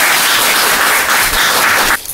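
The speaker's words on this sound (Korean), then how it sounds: "여러분 박수 한번 해주시기 바랍니다." Audience clapping fills a Korean church academic seminar hall, a brief burst of fairly loud applause that cuts off abruptly near the end.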